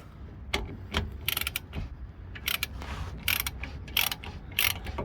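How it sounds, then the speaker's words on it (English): Spanners work on a rear brake caliper bolt of a Skoda Fabia, producing close, irregular bursts of metallic ratcheting and clicking with short pauses between turns. "he's holding the inner there with a 15 and loosening the outer bolt with the 13."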